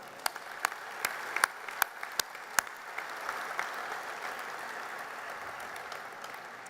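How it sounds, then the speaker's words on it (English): An audience at a GE Appliances investment event claps, starting with sharp individual claps that swell into steady, moderately distant applause that holds for several seconds. "all of you deserve a round of applause as well"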